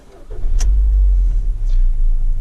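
A Ford Focus 1.6 petrol engine idles warm with an internal knock, a deep steady rumble close by with a couple of faint clicks over it.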